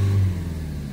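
A Chevrolet Cruze 1.7 diesel engine held at about 3,000 rpm with the bonnet open during DPF cleaning gives a low, steady mid-pitched drone, close and fairly loud, easing slightly partway through the second.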